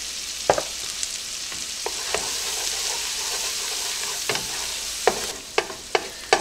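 Pepper and garlic sizzle steadily in a frying pan for fried rice, a continuous hiss broken by several sharp scraping clicks of a utensil stirring, growing more frequent toward the end.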